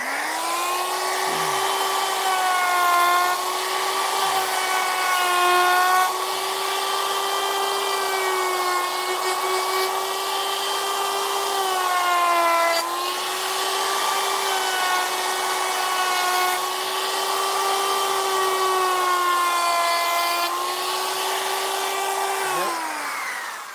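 A router cuts into wood while a gargoyle head is being carved in a wood shop, giving a loud, steady whine with sustained harmonics. The pitch sags briefly as the cutter bites, and no talking is heard.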